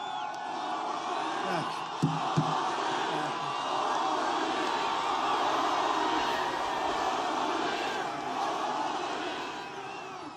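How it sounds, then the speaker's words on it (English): A rowdy rally crowd in Pennsylvania keeps up a dense, continuous roar of cheering and shouting, with a couple of sharp bursts near the start and a brief spoken thanks over the noise. "This is a nice rowdy crowd, isn't it, huh?"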